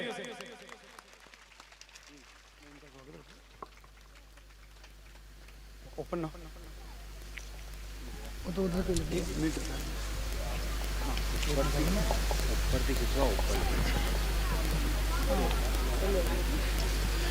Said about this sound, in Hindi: जोरदार अभिनंदन करें तालियों से